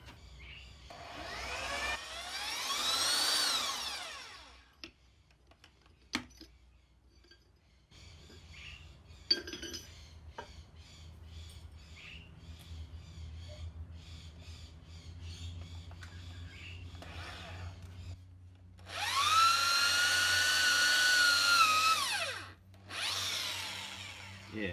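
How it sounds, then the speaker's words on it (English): A power drill bores pilot holes into wood while brackets are made for an anvil. Two loud, whining bursts of the motor, one near the start and one near the end, frame a quieter stretch of low hum and small clinks. "I could feel even that the drill bit then just hit a really hard spot"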